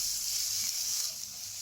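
Ground spices sizzle steadily in hot oil over low heat, a constant close hiss of frying with faint stirring underneath.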